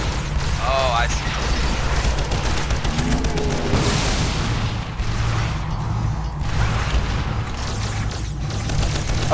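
Enemies burst apart in the video game Earth Defense Force, with dense explosions and gunfire-like blasts filling the mix under continuous talk.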